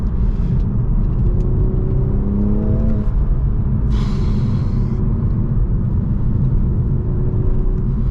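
A manual Toyota Supra accelerates hard with some tire slip, its engine note rising through a steady loud rumble and whir before settling, with no talk.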